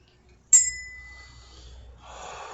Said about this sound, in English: Let's cleanse this area with the cleansing bell.